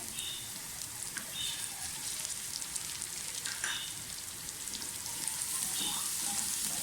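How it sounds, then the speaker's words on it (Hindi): Steady sizzling and crackling of green chilies frying in a hot pan for kachnar gosht, with faint stirring sounds, close and continuous. "हरी मिर्चों को भी थोड़ा सा फ्राई कर लें"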